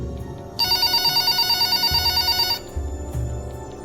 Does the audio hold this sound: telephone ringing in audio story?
yes